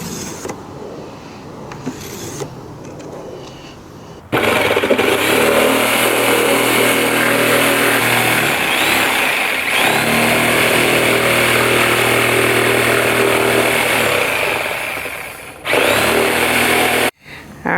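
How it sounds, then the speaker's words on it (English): A Sawzall reciprocating saw cuts a suitcase in half, a loud, steady buzzing drone running for roughly eleven seconds after a quieter start, with brief pauses near the end and no talking. "I'm going to cut it in half with the Sawzall."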